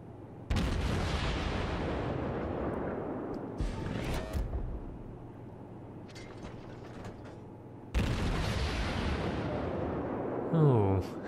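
Naval gunfire in World of Warships during a battle against the battleship South Carolina: two heavy booming broadside blasts a few seconds apart, each with a long rumbling tail, among mechanical turret creaks and game noise, with a voice talking in between.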